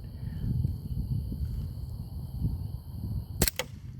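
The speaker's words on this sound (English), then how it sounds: "I'm just trying to feel my way out with the semi-auto section of the gun." A CO2 air pistol fires in semi-auto, two sharp snapping shots in quick succession near the end, close and loud over a steady low background rumble.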